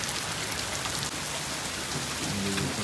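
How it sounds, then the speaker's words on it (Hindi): Heavy snow pelting down hard onto a plastic sheet and netting in dangerous winter weather, a dense, steady hiss and patter close by, continuous with no letup and no voices. "वो प्लास्टिक की जो आवाज़ यहाँ तक आ रही है, इतनी ज़ोर से जब वो गिर रही है इसके ऊपर।"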